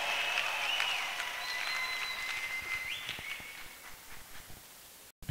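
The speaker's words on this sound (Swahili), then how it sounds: "Pigie tena Bwana Yesu makofi mengine yanayoeleweka" Steady applause from a church congregation fills the space, dense and fairly loud, with a sustained tone running through it before it cuts off sharply near the end.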